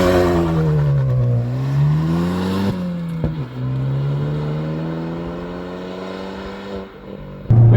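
A Hyundai i20N in N mode launches hard from a standstill, its engine revving up loudly and pulling through a steady climb with a brief gear shift, then a sharp rev flare at the end.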